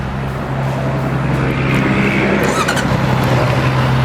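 A 2019 Honda CB650R motorcycle engine with its stock exhaust idles nearby with a steady low rumble and a slight rise in revs partway through.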